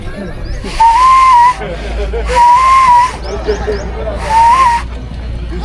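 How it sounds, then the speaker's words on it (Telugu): A conch shell is blown in three long, steady, breathy blasts with pauses between them, each a loud close tone carried over a hiss. "ఓకే, ఇది శంఖం."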